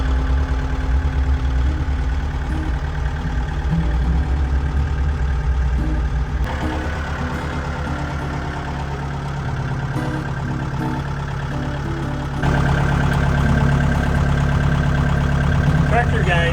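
Shop truck engine running steadily and close, a continuous idling rumble with a slight change in tone partway through and a louder stretch near the end; no clear speech over it.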